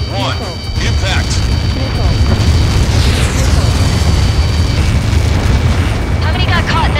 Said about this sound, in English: How many got caught in that explosion?